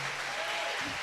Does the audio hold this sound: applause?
yes